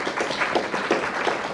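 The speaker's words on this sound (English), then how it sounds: "I think that deserves a round of applause" Audience applause at an academic awards and higher-education event, a short burst of many hands clapping together at moderate volume, dense and even throughout.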